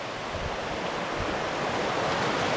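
The east branch of the Baptism River rushes past a campsite on the Superior Hiking Trail, a steady, dense roar of flowing water that fills the scene without pause and without any voices.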